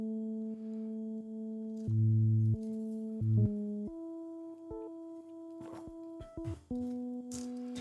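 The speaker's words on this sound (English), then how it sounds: "which is just replicating the bass line on like, I believe like 2 octaves and a fifth up" Clean, sine-like synth harmony doubling a bass line two octaves and a fifth higher, playing stepped sustained notes that shift pitch every half second or so; soft and isolated, with a faint noisy burst at the close.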